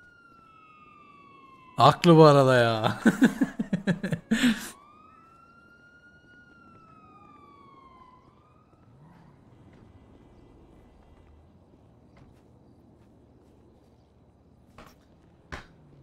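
A police car siren in a GTA roleplay game wails in a smooth falling sweep, breaks for a burst of talk, then returns as a long gliding tone that fades away, leaving quiet background with a couple of faint clicks.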